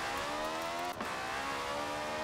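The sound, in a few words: Citroën 2CV with a V8 engine accelerating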